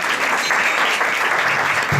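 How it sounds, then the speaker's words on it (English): A crowd claps for sponsors at a Narasimha Caturdasi temple celebration, steady dense applause filling the whole short stretch at an even level. "Please give them a warm round of applause to all our sponsors today."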